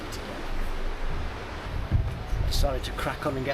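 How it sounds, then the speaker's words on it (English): Strong wind blowing outdoors in a dry spring woodland, a continuous gusty rush and buffeting against the microphone, with brief murmurs of voice over it near the end. "It's very, very windy today."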